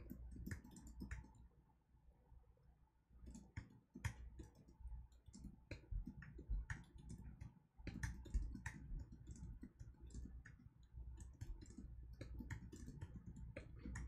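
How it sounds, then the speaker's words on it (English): Quiet typing on a computer keyboard comes in irregular bursts of soft clicks and taps, with short pauses between runs of keystrokes and no voices. "this is just me typing out the knight's move"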